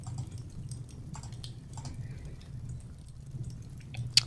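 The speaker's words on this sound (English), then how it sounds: "so that's a water leak" Water from a leak drips in the video game Dwarf Tower, scattered soft drops falling at an uneven pace over a quiet low rumble, with one brighter drip near the end.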